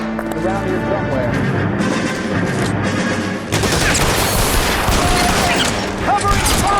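Gunfire fills a shootout in the video game L.A. Noire, with loud, dense bursts of shots and booms that get heavier partway through.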